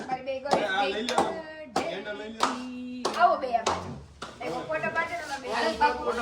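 Several sharp hand claps ring out in an irregular pattern over continuous voices chattering and singing close by at a birthday celebration.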